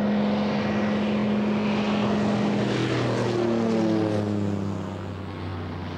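Firefighting propeller airplanes fly overhead with a loud, steady engine drone, and the pitch slides lower as they pass and move away.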